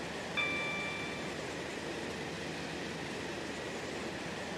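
A train in the Stepford County Railway video game coasts over a viaduct at about 90. A steady, even rolling rumble carries on throughout, with a brief bright chime near the start and no voices.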